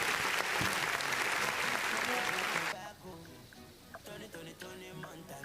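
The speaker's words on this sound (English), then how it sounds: "a round of applause for yourselves." Indoor audience at a workplace HR gathering breaks into loud, dense clapping for a few seconds, then it drops off abruptly to scattered claps and murmuring room noise.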